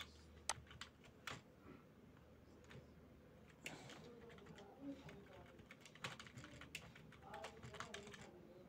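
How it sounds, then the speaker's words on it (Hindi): Computer keyboard typing while working in Microsoft Word, scattered light key clicks in irregular bursts at moderate distance under a quiet room background. "उसके बाद हम इसको अपने कीबोर्ड से एडजस्ट कर लेंगे"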